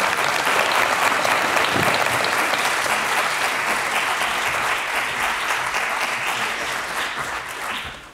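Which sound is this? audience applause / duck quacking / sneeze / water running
audience applause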